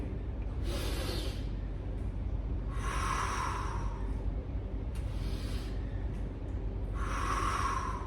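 Four long, breathy exhales during kettlebell swings hiss out at steady intervals over a constant low hum, close to the microphone with no talking.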